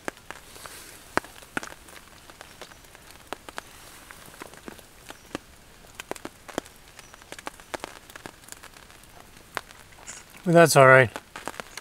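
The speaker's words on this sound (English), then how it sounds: "Today, sitting under a tarp soaking in rain." Steady rain patters on a tarp sheltering a camper on a northern Algonquin backcountry lake trip, with scattered soft drops and ticks throughout; someone speaks briefly near the end.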